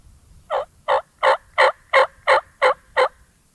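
A wild turkey in the woods during spring turkey season gobbles in eight loud, evenly spaced bursts, each a short throaty rattle, close and clear against a quiet background.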